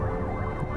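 Emergency vehicle siren, a fire engine or ambulance, passing outside; a loud sustained wailing tone holds steady and close over the whole short stretch.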